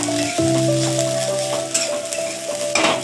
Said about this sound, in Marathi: परत एकदा आपण भाजी मिक्स करून घेऊयात